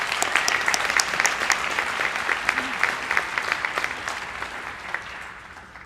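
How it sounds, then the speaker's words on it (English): Applause for county award winners at a spring graduation ceremony, a medium-sized audience clapping crisply and steadily, gradually thinning and fading out toward the end. "Let's have a round of applause for all our county award winners."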